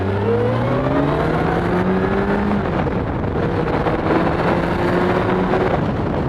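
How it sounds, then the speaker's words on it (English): A Kawasaki ZX-12R motorcycle engine revs as the throttle opens, its whine climbing in pitch through several rising sweeps over a loud, steady rush of wind and road noise. "opening the throttle"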